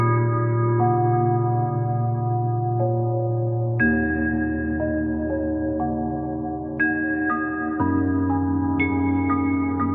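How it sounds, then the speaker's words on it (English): Synthesizer driven by electrical signals from a plant's leaves, played through electrodes: soft sustained tonal notes shift in stepped pitches, bell-like and continuous, moderately quiet with no voices. "So really what you're hearing here is the neurons of the plant firing"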